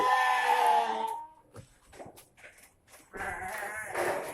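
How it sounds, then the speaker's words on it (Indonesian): A loud bleat from coughing goats near their pen opens, followed by scattered soft noises, then more bleating and animal calls rising near the end. "dari kambingnya ini berisik ya"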